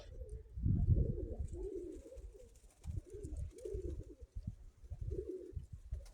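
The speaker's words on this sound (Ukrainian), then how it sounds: "Троєчка моїх голубів." Mykolaiv pigeons coo close by in repeated low, soft, throaty bursts, several calls overlapping in an uneven rhythm, with no talking.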